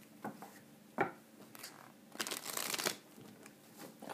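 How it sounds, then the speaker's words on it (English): Tarot cards are shuffled close by in quick bursts of riffling and soft slaps, with a longer brisk riffle in the middle. "Quick on-screen shuffle."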